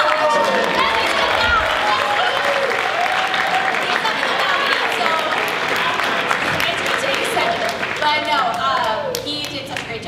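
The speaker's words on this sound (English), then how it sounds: "everybody give him another round of applause" An audience at an a cappella concert gives a sustained round of loud applause, with cheers and shouting voices mixed through the clapping until it eases near the end.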